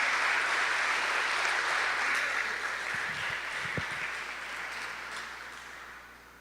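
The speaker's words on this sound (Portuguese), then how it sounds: "Aplauda ao Senhor" A congregation applauds during a Sunday church service, a broad, steady wash of clapping that gradually fades, with a few low knocks partway through.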